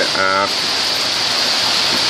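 Heavy stormy rain pours down as a dense, loud, steady hiss; a brief voice sounds near the start.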